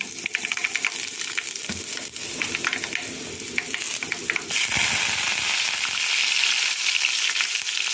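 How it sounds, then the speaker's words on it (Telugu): Asafoetida tempering sizzles hard in hot oil for a Telugu coconut chutney, a dense steady crackle that jumps louder about halfway through and holds close and bright with no voices. "తాలింపు వేసుకున్నాం"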